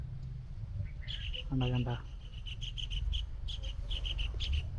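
Parrots call in a string of shrill, repeated squawks and chirps over a low outdoor hum by rice paddies, with a brief human voice partway through.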